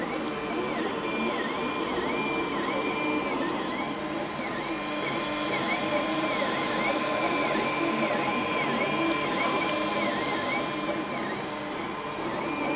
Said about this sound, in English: I'm using a transparent filament, and that might not be really visible now, but it's printing.